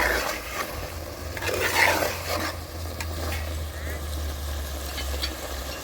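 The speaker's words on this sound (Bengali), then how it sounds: "আর দিচ্ছি কাঁচা ও পাকা চেরা কাঁচা লঙ্কা। সবগুলো একসাথে আবার কষে নেব।" Chicken curry with whole garlic cloves and split green and red chillies is stirred and sautéed in a pan. It makes a steady sizzle with scraping stir strokes over a low hum, close and moderately loud.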